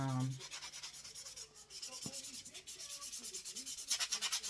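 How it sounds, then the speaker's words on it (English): Rhythmic back-and-forth rasping of a medium grit sanding block on an Easter egg, steady strokes close up, growing slightly louder toward the end. "This is like a medium grit sandpaper block."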